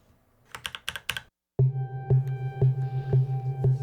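A few keyboard clicks, a brief silence, then a deep Pigments software synthesizer note at C2 that drones on and pulses in a steady rhythm.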